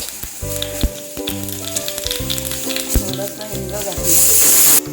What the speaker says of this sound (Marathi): तूप गरम केलं आहे त्यामध्ये जिरा गरम केलं आहे